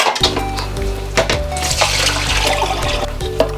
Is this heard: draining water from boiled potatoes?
yes